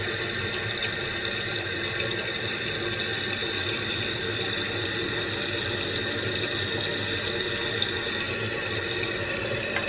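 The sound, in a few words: thrift store toilet parts flushing and tank refilling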